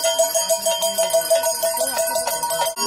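A church bell rings with a bright, ringing tone in rapid repeated strikes, fairly close and loud, with no voices over it.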